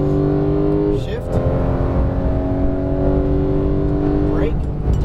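Porsche 911 GT3 (991) accelerating hard on a race track, a loud close engine roar rising through the revs, with a quick shift break near the second mark and again near the end, climbing steadily with no talk.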